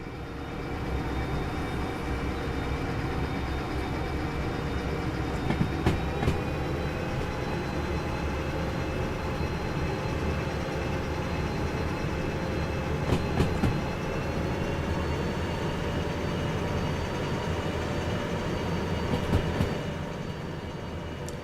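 A DE6 diesel locomotive in Derail Valley hauls a heavy 2000-tonne train up a hill under added throttle, a loud sustained engine drone with steady tonal whine and occasional wheel clanks throughout, no voices.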